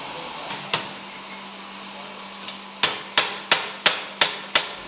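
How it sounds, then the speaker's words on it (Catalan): Blacksmith hammering iron on an anvil at a forge: sharp ringing metallic strikes, a couple of isolated blows and then a steady run of six evenly spaced hits, loud and close over a faint background hum. "Estem treballant a la fornal, estem treballant a l'enclusa, amb els martells, les tenalles"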